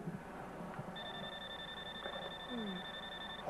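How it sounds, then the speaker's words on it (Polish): A telephone rings with a steady electronic tone that starts about a second in and runs for most of the clip, faint and a little distant, over low room sounds and a brief murmur. "Cholerny telefon."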